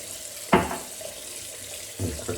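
A razor is rinsed under a running bathroom tap, with two short splashing bursts of water, fairly faint and close, separated by a quiet gap.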